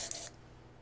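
A short, bright hiss of spraying paint lasts about a third of a second before cutting off, leaving a low background hiss.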